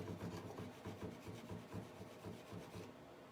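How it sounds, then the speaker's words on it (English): Paint blended from five colors plus a metallic being scraped across hardware, giving a steady, close rasping rub with quick repeated strokes throughout, no talking. "I'm just kind of scraping it a little bit"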